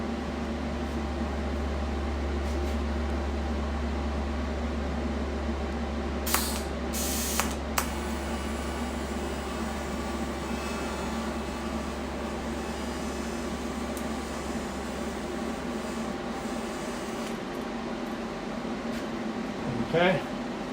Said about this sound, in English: so I'm going to just do a couple tacks here real quick